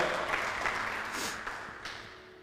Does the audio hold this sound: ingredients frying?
no